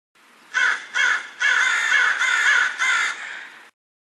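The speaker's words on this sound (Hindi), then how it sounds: "पेड़ की डाल पर आकर कांव कांव करने लगा" Crows caw in a string of loud, harsh calls, five or so in quick succession with short gaps, close by and with nothing else heard.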